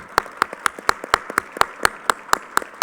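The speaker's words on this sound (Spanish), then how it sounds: "Bueno, un aplauso, por favor." Applause at an international conference on habitat and sustainability, steady rhythmic clapping that sounds like a single pair of hands close to the microphone, about a dozen evenly spaced claps.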